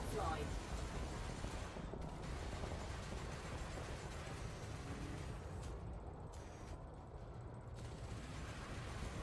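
Weapons of a Federal Dropship with one large and five medium hardpoints fire at an Imperial Clipper in Elite Dangerous space combat, a dense, continuous roar of fire holding steady throughout.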